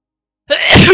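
A single sharp sneeze bursts out close to the microphone after a moment of silence.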